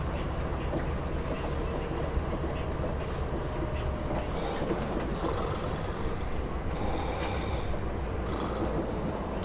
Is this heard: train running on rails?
yes